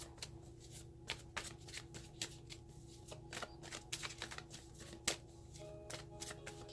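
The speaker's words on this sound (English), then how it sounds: "Okay, I'm going to stop the shuffle." Steady crisp riffling of a deck of tarot cards being shuffled, with a few sharper snaps along the way, close and fairly quiet, no talking.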